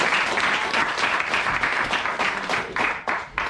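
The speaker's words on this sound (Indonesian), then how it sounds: "Jadi tepuk tangan untuk para atlet." Applause from an audience honouring paragliding athletes, a dense steady wash of many hands clapping throughout, fairly loud and continuous with slight swells near the end.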